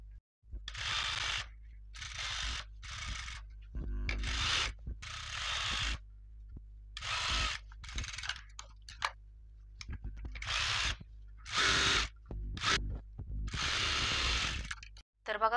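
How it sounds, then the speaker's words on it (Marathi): A sewing machine stitches along the neckline edge of a blouse in bursts of rapid mechanical whirring, starting and stopping repeatedly with short pauses between runs, close and fairly loud. "तर आता आपण याला अशी टीप मारून घेणार आहोत गळ्याला एकदम कडाकडाला."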